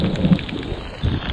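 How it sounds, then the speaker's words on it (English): Steady, dense rain pours down close by on a wilderness campsite in northern Canada, a continuous heavy hiss with low rumbling swells. "It's raining a lot."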